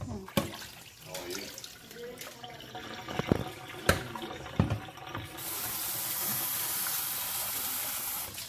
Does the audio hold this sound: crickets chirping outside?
no